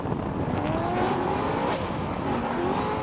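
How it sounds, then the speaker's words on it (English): Drift race cars at Queensland Raceway howl in a loud, continuous engine roar with rising and falling revs and tyre noise, several cars running close together. "Two totally different cars, but Atkins is out there giving it all."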